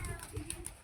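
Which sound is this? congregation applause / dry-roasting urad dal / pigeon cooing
pigeon cooing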